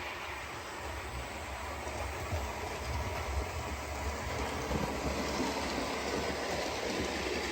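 A model OO gauge train runs on a layout, giving a faint, steady rumble with light rhythmic clicking of wheels over track, continuous and without talk.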